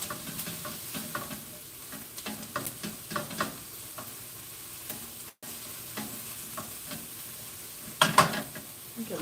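Peppers fry in a pan with a soft steady sizzle, broken by scraping stir strokes and a louder burst of crackle near the end, with no voices.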